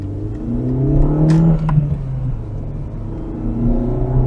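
A Chrysler PT Cruiser's engine revs up under hard acceleration, a loud, close droning whir that climbs steadily in pitch inside the car. It dips briefly around a gear change, then rises again.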